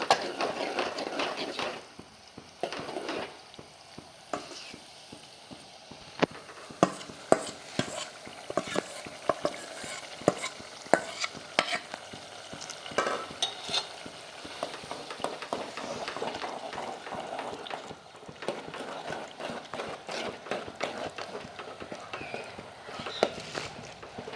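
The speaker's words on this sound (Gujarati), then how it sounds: "બધા રીંગણા આપણે નાખી દીધા છે એને વ્યવસ્થિત હલાવી નાખીએ" Roasted eggplant curry is stirred in a pan, a steady scraping and clattering of spoon against metal with soft sizzling beneath, continuing unevenly up close.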